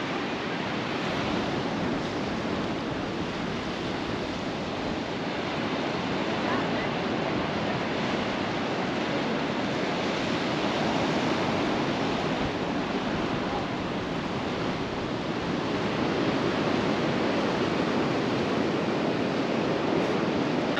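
Ocean surf rolling onto the Oregon coast, a steady, loud wash of breaking waves with wind rushing across the microphone, continuous for the whole stretch with no talking.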